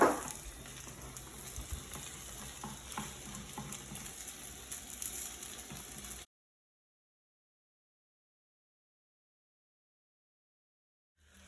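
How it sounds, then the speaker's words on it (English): Egg stirred in a pan for leftover fried rice gives a steady, busy sizzle and scraping for about six seconds, then stops abruptly into silence. "Make sure you're touching the bottom of the pan, and you want to try to not mix up with any of the other ingredients"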